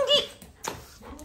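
A dog whimpers close up with a short, high, wavering whine, followed by a few softer breathy sounds.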